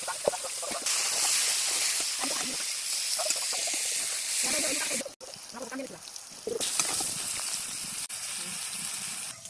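Pointed gourd fries in hot oil in a kadai, giving a loud, continuous broadband hiss and sizzle that dips briefly midway, with faint voices in the background.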